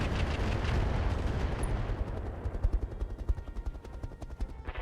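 LRM missile volleys fired in the RogueTech BattleTech video game: a dense, continuous roar of rapid launches and blasts that stays loud throughout and thins into pulsing bursts toward the end.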